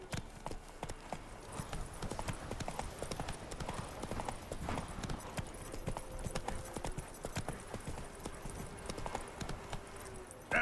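Roach, a horse in The Witcher 3 video game, trots with a steady, brisk clip-clop of hooves that runs throughout, with a brief whinny-like touch and game ambience mixed in.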